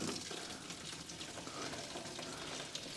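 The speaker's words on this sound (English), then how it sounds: "just loosen the main feed line. And we're gonna get all this fuel pouring out." Fuel pours out of a loosened main feed line on a Mercedes-Benz 300CE AMG, a faint, steady splashing trickle that runs without a break.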